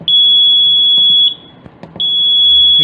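Loud, piercing electronic beeps from an HCU Mini welding control unit buzzer: a long steady tone, a short break with faint clicks, then the tone resumes, alone with no voices.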